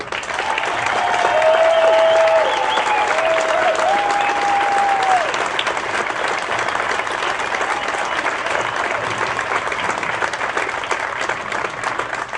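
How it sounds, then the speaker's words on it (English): Sustained audience applause for a school stage band fills the hall, loud and steady throughout, with a few brief tonal whistles or cheers rising early on. "you got to clap louder than that because they definitely deserve it"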